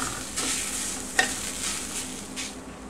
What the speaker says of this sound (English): We want to let the tomato paste kind of caramelize a little bit on the pan